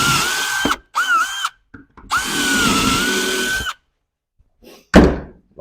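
A power drill bores 8mm dowel holes into a kitchen base cabinet panel in a workshop: several loud, close bursts of whining motor with brief stops between, then a sharp thunk at the end.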